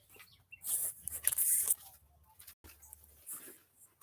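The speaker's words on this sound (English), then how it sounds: "The birds have woken up." Sparse morning bird chirps and calls in a quiet backyard, with a few bright bursts and a low rumble of distant traffic underneath.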